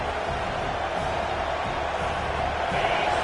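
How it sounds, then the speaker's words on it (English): Dense, steady roar of a large stadium crowd, loud and continuous, with a slight swell near the end. "listen to this crowd noise. This stadium is vibrating."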